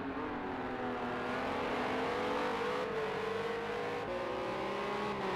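A Renault R.S. 01 Trophy race car at Circuit of the Americas in a sim racing game gives a continuous, steady engine whine that holds at high revs and shifts pitch slightly through the corner.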